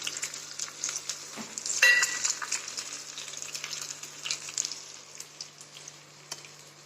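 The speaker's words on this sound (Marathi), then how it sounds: "डाळ टाकून ना ह्याला थोडं हलवायचं" Lentils fry in a hot tempering of mustard seeds, asafoetida and curry leaves while being stirred, producing a close, lively crackling sizzle with scraping stirs and a sharper burst early on.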